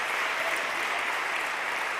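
A church congregation applauds during a prayer night, a faint, even roar of many hands clapping together, distant and steady with no voices standing out.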